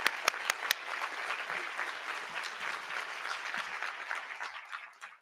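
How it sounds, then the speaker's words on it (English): An audience applauds Dominique and the Salish School students, steady clapping with a few sharp near claps at the start, holding for about five seconds before fading out. "about one more round of applause for Dominique and the Salish School students?"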